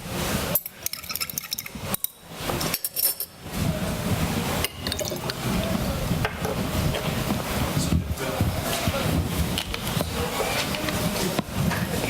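Two liquid solutions, each dissolved in a little water, poured together and foaming as gas is released, giving a steady fizzing, splashing wash of liquid that runs continuously, with a few brief gaps at the start.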